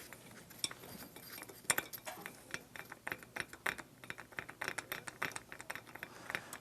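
A wing nut on a small engine's air cleaner is unscrewed by hand: faint, close metallic clicks and light ratcheting taps in an irregular run, quiet throughout with no speech.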